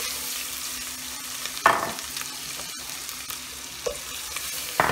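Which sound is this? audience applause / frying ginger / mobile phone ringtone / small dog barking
frying ginger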